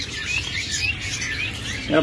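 Several caged lovebirds chirp in quick, thin, high tweets over a low background murmur of voices.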